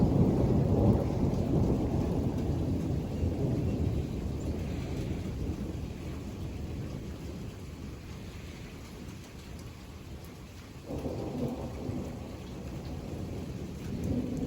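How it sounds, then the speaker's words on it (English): Rain falls steadily as a passing thunderstorm over Highland County, Ohio rumbles with low, rolling thunder that swells, fades and returns, heard outdoors with no talking. "you can hear the thunder is to the east now."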